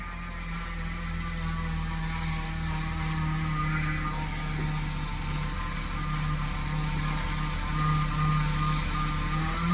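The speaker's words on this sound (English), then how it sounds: "So obviously the power steering is making a lot of noise." A 2011 BMW 328i with the N52 engine idling while its power steering pump runs, giving a steady low drone and whine that holds loud and continuous throughout with no talk.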